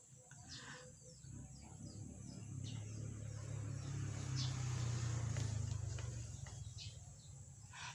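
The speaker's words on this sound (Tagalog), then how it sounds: "May mga motor dumaan, may sasakyan dumaan." Motorcycles and cars passing by outside on a nearby road, a low engine rumble swelling up and fading away over several seconds, heard indoors at moderate distance alongside faint clicks and small background noises.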